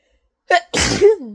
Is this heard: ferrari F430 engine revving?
no